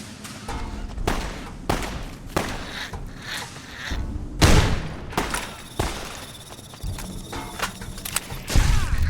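Shotgun blasts in a modded Fallout: New Vegas, fired in a rapid run of loud, booming shots over roughly nine seconds, with brief gaps between bursts.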